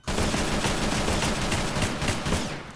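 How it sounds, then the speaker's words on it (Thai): Rapid repeated gunfire in a video game, a loud run of closely spaced shots firing in steady succession for nearly three seconds without pause. "อ่ะอีกสิบนัดก็ยิงซ้ำแล้วกัน"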